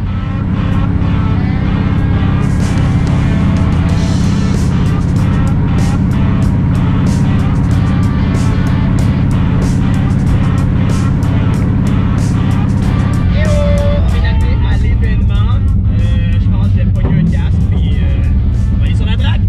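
Drift cars roar around a race track, their engines loud and continuous with passing surges and tyre noise, heard close and dense throughout.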